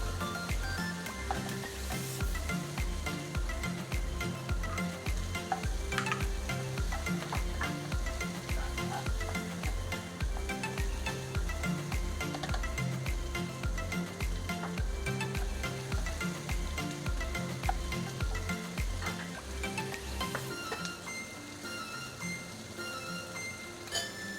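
Bacon and potatoes fry in a pan with a steady sizzle and crackle, overlaid by a regular rhythmic ticking pulse that runs most of the way before dropping away near the end.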